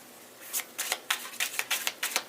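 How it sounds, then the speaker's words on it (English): Tarot cards are shuffled by hand during a reading, a string of crisp papery riffles and flutters in quick uneven bursts, close and fairly loud, with no talking. "Do 3 shuffles for that Chariot."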